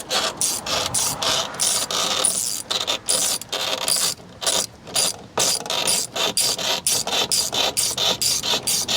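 Ratchet loosening a bolt beside the front license plate on a Chevy Colorado, rapid repeated clicking strokes in quick bursts with short gaps, close and clear.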